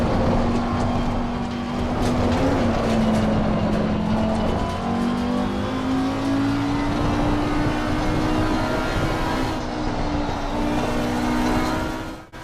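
A race car in a sim racing game takes a corner with its engine volume turned down, leaving a steady, loud, dense rumble of tire and road noise over a low, droning engine tone that holds through the whole stretch.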